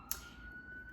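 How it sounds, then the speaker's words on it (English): Sirens wail faintly from outside, a thin steady tone sitting low in the background behind a quiet room, with one brief sharp click near the start. "sorry, it's sirens out here"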